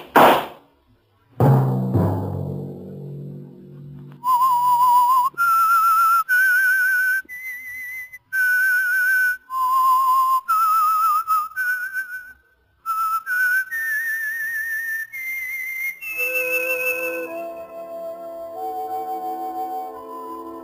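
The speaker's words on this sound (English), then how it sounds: "Let that whistle be your signal for the Whistler each Sunday night at this same time." The whistled theme signal of The Whistler radio show, a lone melodic whistle that rises and falls in distinct phrases, clear and close, following a brief burst of orchestral sound at the start.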